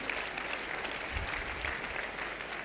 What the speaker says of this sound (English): I thought somebody is clapping for them